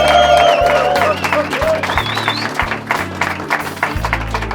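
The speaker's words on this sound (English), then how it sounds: "Let's give them a loud cheer for the final." At a shooting competition finals day, a crowd cheers and claps loudly in a dense mix of applause and whoops, with a voice briefly audible at the start.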